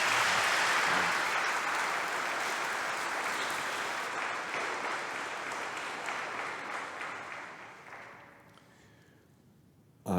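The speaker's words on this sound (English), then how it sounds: "Can we give them a round of applause?" A church congregation applauds during a live Sunday homily: dense, steady clapping that fills the room, then slowly thins and fades away near the end.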